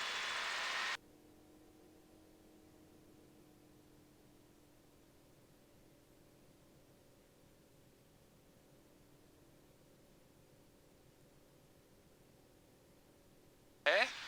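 An AutoGyro Cavalon 915iS gyrocopter engine runs at raised throttle, holding a steady drone with a low hum throughout, framed by brief bursts of loud wind noise at the start and end.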